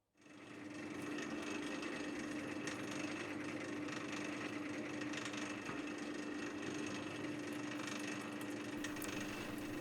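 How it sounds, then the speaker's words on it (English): A small drill bores a hole into a metal toy spinning-top handle on a hobby lathe, giving a continuous, steady whirring and grinding hiss that holds evenly close by after a brief start. "I just started with a small drill to get it in exactly the right place."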